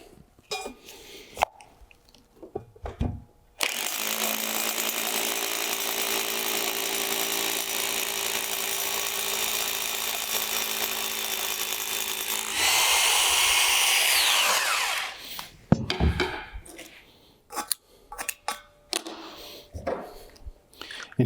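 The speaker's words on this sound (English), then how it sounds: "take your hammer drill" A hammer drill bores into a concrete footing to mount a pergola post base, running in one long, loud, steady burst for about nine seconds, then shifting to a harsher, higher whine before stopping, with handling clatter around it.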